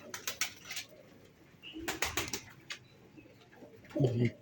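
Pigeons from a kept flock coo in low, throaty bursts, with a stronger, closer coo near the end, amid scattered bird chirps and brief rustling.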